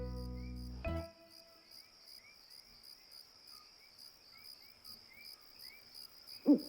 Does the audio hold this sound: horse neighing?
no